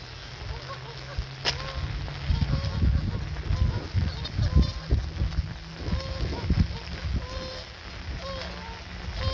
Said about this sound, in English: Those geese down there are getting into some sort of argument.